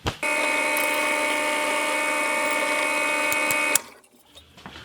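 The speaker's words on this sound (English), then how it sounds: "first of all I'm going to do a 3mm hole down there and then attempt to join up with it" A power drill bores a 3mm hole into the wooden body of an electric guitar, a loud, steady whine that runs for a few seconds before cutting off abruptly and leaving faint handling noise.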